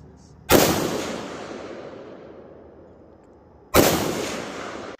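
At an outdoor shooting range, two loud, sharp gunshots ring out about three seconds apart, each decaying into a long echo.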